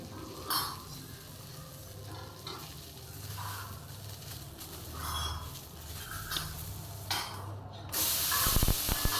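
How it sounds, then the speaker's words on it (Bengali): Steady oil sizzle and spatter of fish frying in a wok, with occasional stirring scrapes and a louder hissing burst near the end. "সব মাছগুলোকে একসঙ্গেই আমি ভেজে নিচ্ছি।"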